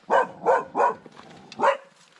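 A dog barks several times in quick bursts, close and fairly loud, near an outdoor grill where fish is smoking, with a short pause before a final bark.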